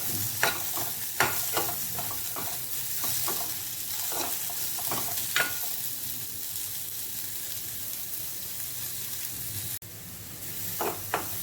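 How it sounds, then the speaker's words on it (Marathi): Chopped onion frying in a pan until reddish-brown, a steady hiss of sizzling oil broken by sharp spoon scrapes and taps against the pan, close up and without talk. "कांदा आपल्याला पूर्ण असा लाल होईपर्यंत हा भाजून घ्यायचा आहे."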